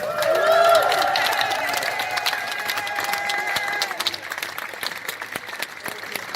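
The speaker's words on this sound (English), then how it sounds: "Let's have a round of applause for the prisoners." Audience applause and cheering fill a live show as prisoners are honoured, loud and dense at the start and easing slightly over six seconds, with voices mixed into the crowd noise.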